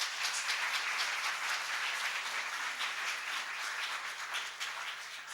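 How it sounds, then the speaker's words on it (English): A school awards evening audience applauds students, a dense, steady wash of clapping from a full room that holds evenly throughout and tapers slightly at the end. "they all deserve a round of applause for their efforts"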